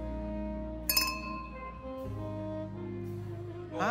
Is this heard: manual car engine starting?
no